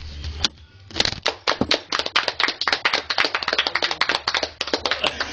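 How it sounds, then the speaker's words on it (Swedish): A small group of people gives a short round of applause at a casual gathering, with close, uneven hand claps that grow denser and keep going steadily. "En liten applåd"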